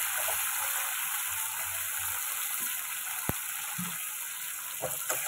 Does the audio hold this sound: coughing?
no